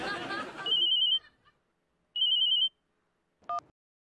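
A phone ringtone trills in short electronic bursts with pauses between, following some talk at the start; a brief different beep ends it.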